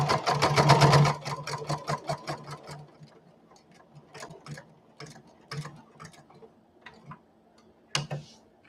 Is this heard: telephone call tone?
no